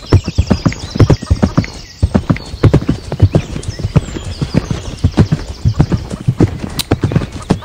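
A horse walked out to the paddock at a stable, its hooves clip-clopping loudly and close in a steady walking rhythm, with a brief whinny and some soft rustling in the background.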